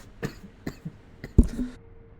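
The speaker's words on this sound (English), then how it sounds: "Just starting off, I'm already having a coughing fit." A person breaks into a coughing fit: a few separate rough coughs, then a louder, harsher hacking burst with a brief throat-clearing tail, close to the mic and with no talking.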